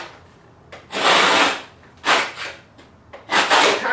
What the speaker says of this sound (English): And then I'm using a carbide cutter. Same thing, I'll just score that down a couple of times.